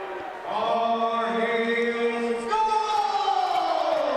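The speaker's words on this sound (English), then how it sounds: "Hear them getting into it a little bit as the crowd is slowly filtered out here" A college hockey crowd cheers and shouts in a big arena, a sustained roar of mixed voices with whoops rising and falling over several seconds.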